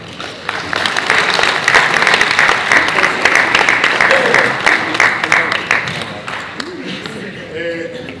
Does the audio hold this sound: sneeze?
no